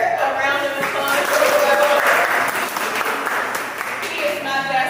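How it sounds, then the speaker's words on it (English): Audience applause at a gathering, an uneven spread of clapping with cheers and voices mixed in, fairly loud and swelling in the middle before easing. "a round of applause."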